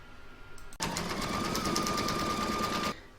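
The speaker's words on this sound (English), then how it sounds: "I'm now going to pop that back into my machine and stitch round number 4 to secure both fabrics" An embroidery machine stitches a reversible acorn placemat, securing two fabrics in the hoop, with a steady, rapid, close mechanical whir and needle chatter that starts abruptly and runs for about two seconds before stopping.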